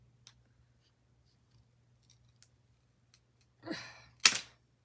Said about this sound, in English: I'm going to cut this stick off without trying to cut her bow